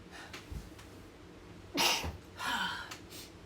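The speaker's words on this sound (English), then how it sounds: "I gotta sneeze." A single close sneeze bursts out sharply after a quick inhale, followed by a softer breathy exhale, with quiet room noise around it.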